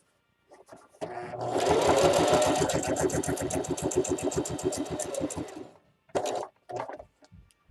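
A sewing machine stitches fabric for an Easter basket in one loud, fast, steady run of evenly spaced needle strokes, lasting about five seconds before stopping, followed by a few short bursts of machine noise.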